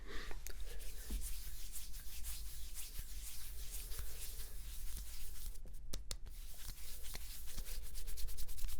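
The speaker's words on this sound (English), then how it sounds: "Now let's rub this side." Hands rub across oil-slicked skin in a close, continuous whisper-soft friction, with steady strokes and a few brief taps and crackles scattered through, during an ASMR muscle examination.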